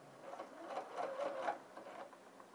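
A sewing machine stitches lining to a jacket vent in a quick, even whirring run of needle strokes, close and soft, with no talk over it.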